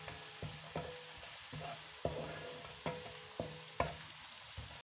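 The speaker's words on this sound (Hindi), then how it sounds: "अदरक और लहसुन है ये क्यूब्स मैं डाल रही हूँ।" Ginger and garlic cubes dropped into golden brown onions frying in a pan, a steady close sizzle broken by several sharp stirring knocks and clatters, with no talking.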